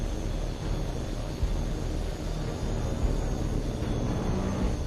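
A jet aircraft flies in the combat flight game HAWX 2, a dense, steady engine roar filling the scene without a break and with no voices.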